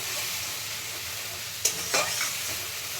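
A pointed gourd filling being stir-fried in oil in a pan, with a steady soft sizzle and a couple of sharp scraping stirs near the middle.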